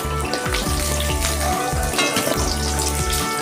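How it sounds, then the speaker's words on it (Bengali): An egg coated with salt and turmeric fries in hot oil, giving a continuous close crackling sizzle with small popping spatters throughout. "আমার তেল গরম হয়ে গেছে, আমি ডিমটা একটু ভেজে নিচ্ছি"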